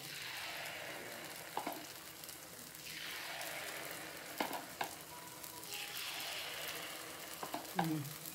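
Snack batter cooks in ghee in a pan with wells, a steady, fairly quiet sizzle like light rain running throughout, with a few soft clicks and taps of a spoon against the pan.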